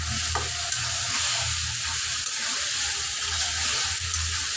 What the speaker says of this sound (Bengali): দিয়ে দিলাম কলিজাটা।